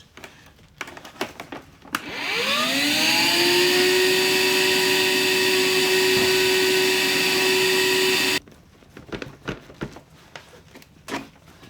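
A salvaged vacuum cleaner motor from a scrapyard dumpster spins up with a rising whine and runs loud and steady for about six seconds before cutting off abruptly, with faint handling noises before and after.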